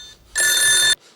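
A telephone bell rings in one loud, bright burst lasting about half a second, close by and alone.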